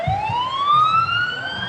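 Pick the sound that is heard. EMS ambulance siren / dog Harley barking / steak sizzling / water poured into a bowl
EMS ambulance siren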